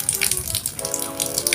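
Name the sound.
rain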